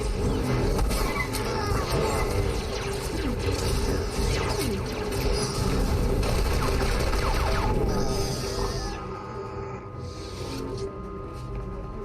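In a SWTOR battle, rapid blaster fire rattles in dense volleys aimed at a barrel, with mechanical clatter and action noise continuing throughout before thinning out near the end.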